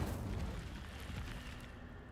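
Casting the Incendio fire spell in Hogwarts Legacy gives a low, rumbling whoosh of flame with a boomy burst, a continuous dense roar fading slightly over two seconds, no talk.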